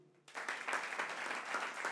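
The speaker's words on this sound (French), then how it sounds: "Applaudissez d'abord pour eux." Applause from an audience breaks out suddenly after a brief quiet moment, a steady wash of many hands clapping at moderate distance, fairly soft overall.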